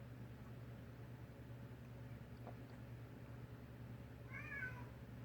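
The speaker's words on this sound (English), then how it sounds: "Cat's crying again." A house cat meows once, brief and faint, near the end of a quiet indoor stretch with a steady low hum.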